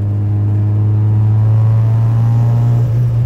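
A 600-plus horsepower Mitsubishi Lancer Evo 8 with a 2.3-litre stroker engine on E85 pulls hard under boost, a loud steady droning roar heard from close by with no voices.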